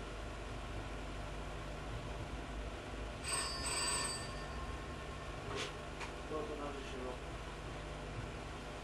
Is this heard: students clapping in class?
no